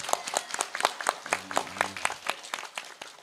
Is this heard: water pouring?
no